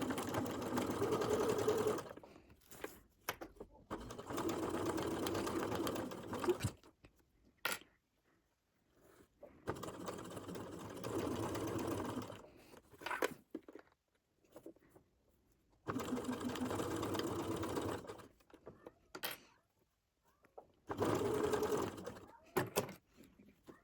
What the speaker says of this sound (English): So I'm pinning them together, face to face, right sides together,